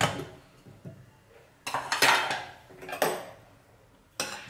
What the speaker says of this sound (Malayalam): ഇനി നമുക്ക് പ്രഷർ കുക്കർ ഒന്ന് തുറന്നു നോക്കാം കേട്ടോ.